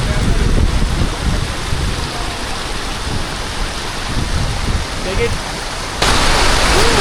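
A mountain stream on the Hampta Pass trail rushes down from above, its loud steady roar close by and filling the whole scene, with a brief shift in level near the end.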